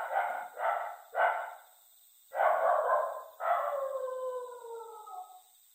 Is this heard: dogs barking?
yes